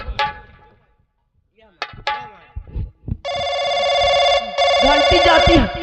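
A telephone ring sounds as two long, loud, tonal electronic bursts near the end. Before them are musical and vocal sounds, with singing voices in the first part.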